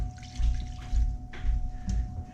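Water runs steadily into a saucepan already holding cubed butter and salt, a continuous splashing pour with a low hum and a few soft clinks, no voices.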